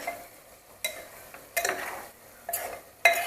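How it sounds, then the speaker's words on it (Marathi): Powdered spices sautéing with mutton in a pressure cooker, a quiet bed of soft sizzling broken by several sharp scraping and clattering stirs at irregular intervals, close by, with no talking. "पावडर मसाले घातलेले आहेत आपण आणि हे परतून घेतो आहे आपण मटणाबरोबर"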